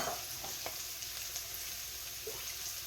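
Mushrooms stirred while frying in a pan for shrimp and mushroom Marsala, a steady soft sizzle with a few light scraping stir sounds, fairly quiet and close, with no talking.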